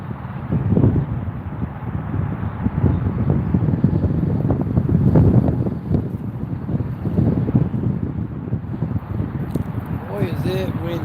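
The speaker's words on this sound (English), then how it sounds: "Boy, is it windy." Gusty wind at a creek bank buffets the microphone in a continuous low rumble throughout, loud and close, with a brief high-pitched voice near the end.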